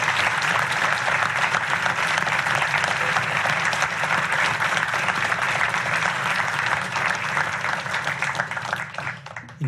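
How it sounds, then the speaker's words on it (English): Sustained applause from a large audience at an awards ceremony for awardees and graduates, dense and steady clapping filling the whole stretch with a faint crowd murmur and a slight fade near the end. "I ask everyone to join me one last time in a round of applause to congratulate all of our"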